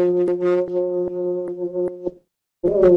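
Resynthesized pitch contour of a Hindustani classical vocal line, a buzzy harmonic synthetic tone holding a steady pitch with regular rhythmic pulses, pausing briefly before resuming with a rising glide, fairly loud and alone.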